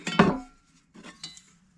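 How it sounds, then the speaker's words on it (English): Nested metal pans and a small kettle from a Trangia-style camping stove set clink together, one loud rattling knock followed by two lighter taps, close up with no talk. "And 3 pans, each pan being slightly larger than the one that preceded it."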